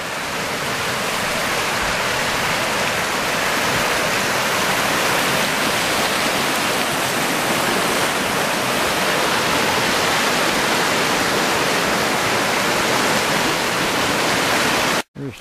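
Panther Creek river and waterfall flowing beside a bridge and river-bottom trail, a loud, constant broadband rush of water that continues unbroken before cutting off abruptly at the very end.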